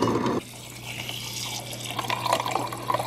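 Water running from a household tap, a steady close rushing splash that continues for several seconds with slight fluctuations and no speech.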